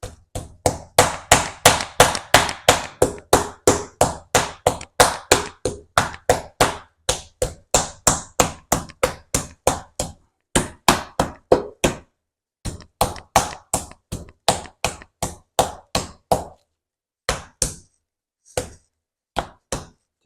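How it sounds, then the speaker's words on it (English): A meat mallet's flat face pounds chicken under plastic wrap in a fast, even rhythm of dull thuds, slowing to scattered single blows toward the end. "Use the flat end of the hammer."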